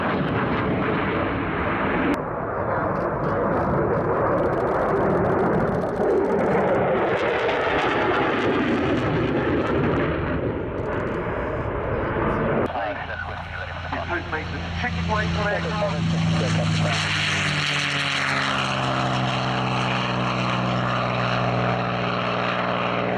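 Aircraft engines roar at the RAF Cosford Air Show, loud and continuous, shifting midway as a propeller plane passes close by with a rising and falling pitch.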